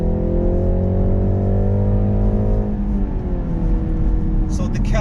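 A BMW G20 330e Touring plug-in hybrid with a 2-liter turbo engine accelerates hard in sport mode, its engine note rising steadily through the gears from inside the cabin, with a brief shift partway through.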